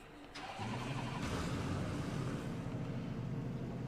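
Race car engines idle and then rise together at the start of an Assetto Corsa Competizione race at Misano, a steady loud drone that builds after a brief quieter opening and holds without speech.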